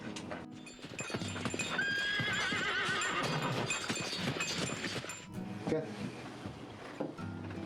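A mare gives a short whinny early on, heard under a dense, busy background of hoofbeats and other noise that runs steadily throughout.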